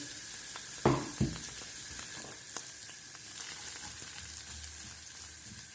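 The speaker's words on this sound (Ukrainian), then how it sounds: "От беру цибульку і трошки її будемо підрум'янувати." Chopped onion fries in olive oil in a pan for a green borscht dressing, giving a steady close sizzle with a couple of sharper crackles near the start and no talk.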